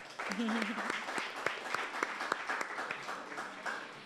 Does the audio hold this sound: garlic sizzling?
no